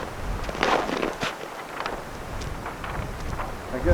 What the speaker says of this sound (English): Wind's up a little bit, but not bad.